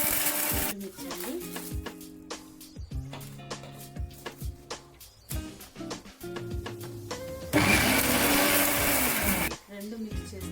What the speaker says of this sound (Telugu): ఫస్ట్ ఈ పప్పుది వేయించుకున్నాం కదా, ఇదాన్ని గ్రైండ్ చేయాలి.